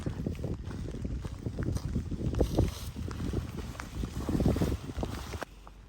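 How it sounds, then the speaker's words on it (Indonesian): Strong wind on a mountain gusts and roars against the microphone in heavy, uneven buffets for several seconds before easing slightly near the end, with no voices. "Di sini anginnya kencang banget."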